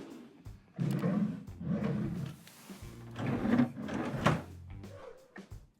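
Cruise ship stateroom drawers slide open and shut several times in a row, close and moderately loud, each a rolling scrape ending in a soft knock.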